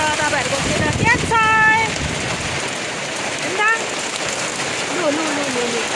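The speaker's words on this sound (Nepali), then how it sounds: "कत्रो ठुलो पानी पऱ्यो हाम्रोतिर त।" Heavy rain mixed with hail pours down in a dense, continuous hiss, with scattered voices heard over the downpour.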